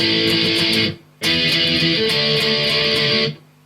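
Distorted electric guitar plays a chorus with quick stops, loud, close strummed chords that halt abruptly for a short dead pause, then resume and ring on before muting to silence.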